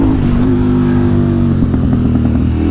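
A KTM 950 SMR motorcycle with freshly synced and jetted carburetors pulls hard in second gear on a twisty road, its loud, close engine note climbing steadily as it accelerates.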